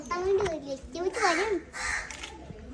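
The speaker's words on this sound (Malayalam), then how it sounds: "അച്ഛൻ കാക്കയും അമ്മ കാക്കയും ചുറ്റും തന്നെ ഇരുന്ന് കരച്ചിലോട് കരച്ചിട്ട്" Crows caw repeatedly around their nest in a rambutan tree beside a house, the harsh calls rising and falling close by, mixed with a voice in the background.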